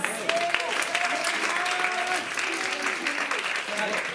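An audience at a student band's live show claps along steadily, a dense wash of clapping with a voice speaking over it near the middle.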